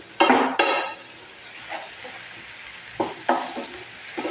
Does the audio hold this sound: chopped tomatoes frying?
yes